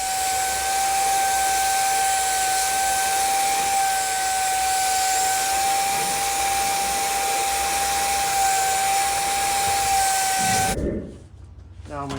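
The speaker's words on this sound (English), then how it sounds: "I'm going to use my shop vac, and I'm going to suck out all the coolant and oil that's here" A shop vac sucks coolant and oil out of a Jeep Wrangler engine, making a loud, steady whining hiss that holds for about eleven seconds, then drops into a quieter rumble.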